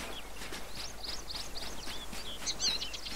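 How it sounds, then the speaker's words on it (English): Birds singing in the video game ArmA 3 on the island of Tanoa by the sea, several quick high chirps and short warbling phrases over a steady soft background, faint and with no talk. "You can hear the birds singing."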